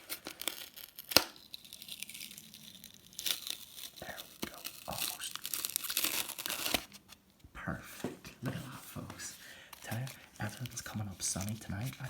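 Plastic packaging being gently peeled and crinkled off a Transformers Legacy Cosmos toy, close, soft tearing and rustling that swells in the middle, then quieter handling clicks and rustles.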